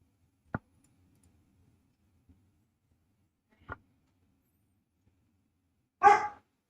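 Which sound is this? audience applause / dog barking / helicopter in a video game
dog barking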